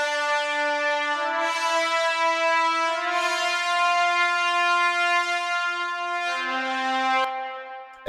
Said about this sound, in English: the French horns. They sound like this.